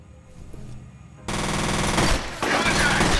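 Rapid automatic gunfire in F.E.A.R. bursts in after a quiet stretch, sustained and loud with a brief dip before another dense volley of shots.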